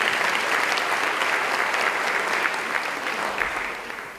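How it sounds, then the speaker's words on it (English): Warm round of applause from an audience at a fire department customer service awards event, steady dense clapping that gradually tapers off toward the end. "let's give him a round of applause anyway"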